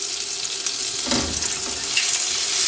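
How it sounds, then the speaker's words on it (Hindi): Butter melting in a kadai after vegetables have been cooked, a steady close hiss with a brief thud, growing slightly louder and brighter toward the end. "ये थोड़ा सा मक्खन और ऐड करना है, इसको आपने मेल्ट करना है।"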